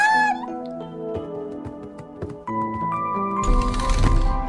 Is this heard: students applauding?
no